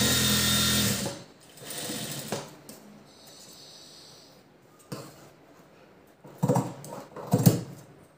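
Sewing machine stitching lace trim onto a blouse design, loud steady run at the start, then shorter bursts of stitching later, with quiet handling sounds between.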